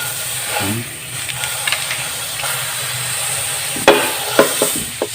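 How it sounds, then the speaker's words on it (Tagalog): Margarine melting in a hot frying pan gives a steady soft hiss and sizzle, broken by a few light scrapes and clicks toward the end. "mainit na itong ating kawali. Lagay na natin itong ating margarine."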